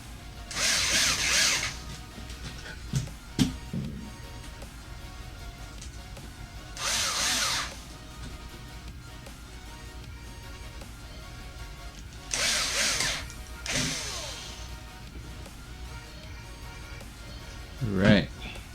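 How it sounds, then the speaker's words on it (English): A power drill driving screws into a TT01 RC car chassis during a build, several short bursts of whirring separated by quiet gaps, with faint handling clicks between them. "Bring in the drill one more time."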